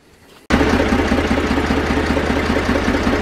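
A Zetor 4911 tractor engine that had sat for over ten years bursts into life and settles into a loud, steady, close-up diesel chug with an even knocking rhythm.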